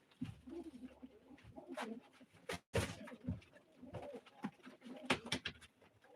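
A male pigeon coos at a live pigeon auction, a run of throaty rolling calls close by, broken by sharp knocks and handling noises.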